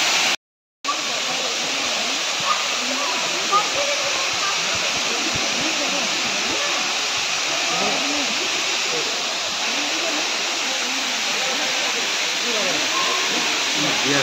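Pradhanpat waterfall in Deogarh roars as a loud, steady broadband rush of falling water up close, unbroken apart from a brief dropout at the very start.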